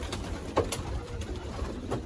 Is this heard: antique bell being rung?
no